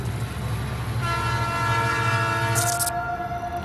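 A train rumbles past with a steady low roar while a long horn blast sounds through most of the passage, loud and close, without any voices.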